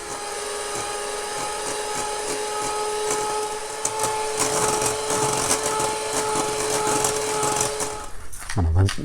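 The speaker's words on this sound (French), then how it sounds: "on va fouetter les œufs jusqu'à obtenir un mélange qui fait 55 degrés Celsius" Eggs whisked in a bowl set over a bain-marie while making a Black Forest cake give a steady, close whirring buzz with a constant hum that runs unbroken for about eight seconds, then rattles and shifts briefly at the end.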